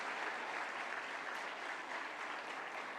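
A hall audience applauds steadily at an official science day celebration, welcoming a government minister onto the dais; dense, even clapping fills the whole stretch with no voices over it.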